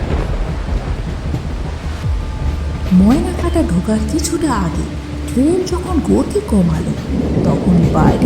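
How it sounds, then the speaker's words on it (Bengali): Rain pours and thunder rumbles as a storm effect in a Bengali horror audio story, continuous and fairly loud beneath a narrator's voice. "বৃষ্টির বেগ আগের থেকে একটু মন্থর হয়ে এসেছে, তবে ঝোড়ো হাওয়া একই রকম চলছে।"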